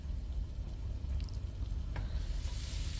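Cumin seeds lightly roasting in hot oil in a pan, giving a steady soft sizzle and crackle with faint stirring scrapes, a low hum underneath and a brief clink near the middle.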